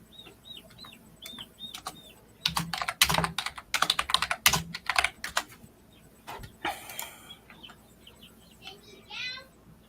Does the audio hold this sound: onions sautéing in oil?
no